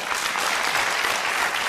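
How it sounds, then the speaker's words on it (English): A studio audience applauds at a televised political debate panel, a dense, steady wash of clapping hands sustained throughout at an even level with no talk over it. "you heard the applause for what he said"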